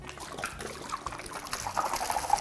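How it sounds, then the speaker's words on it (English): Berry juice gurgling and splashing quickly out of a twirled bottle in a fast, continuous pour, fairly close and soft. "If you give the bottle a little twirl while you pour it out, it will pour out much faster."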